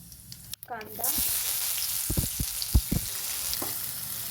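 Mustard seeds and cumin sizzle and crackle in hot oil in a kadhai on a gas stove, a steady hiss with a few sharp pops, after a brief spoken interjection at the start.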